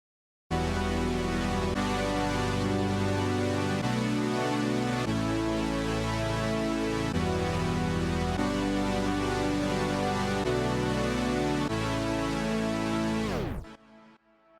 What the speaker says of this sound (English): the first sound I have is the classic Super Saw preset on Alchemy Synth